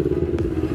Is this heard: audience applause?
no